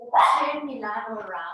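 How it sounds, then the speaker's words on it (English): A dog yips and whines with a sharp onset, heard close indoors over and mixed with a woman's speech in a moms-and-babies Pilates class. "Sorry about the dog barking."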